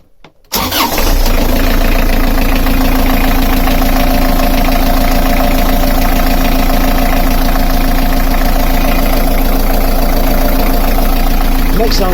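A narrowboat's Beta marine diesel cranks and catches after a brief silence, then runs loudly and steadily at a close, rhythmic idle with a knocking chug that continues unbroken to the end.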